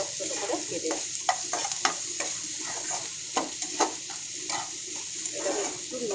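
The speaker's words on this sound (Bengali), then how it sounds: "কাঁচা লঙ্কা আর ক্যাপসিকাম কুচি" Finely chopped green chili and red capsicum fry in a pan with a soft continuous sizzle, broken by repeated scraping clicks from stirring, close and fairly quiet.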